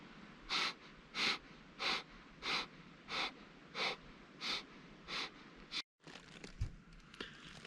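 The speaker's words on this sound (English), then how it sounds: "I'm gonna do a little breath work here." Deep, steady breathing exercise outdoors in a backcountry forest camp near Nordegg: about nine slow, evenly spaced breath bursts, each close and fairly soft, with quiet ambient noise between them and a brief rustle at the end.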